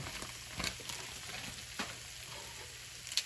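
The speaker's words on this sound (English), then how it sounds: "So I'm going to put the snow peas in, and I'm going to put the carrots in as well." Snow peas and carrots stir-frying in a pan for a shrimp and ginger stir fry, giving a steady close sizzle with a few brief scraping clatters from stirring.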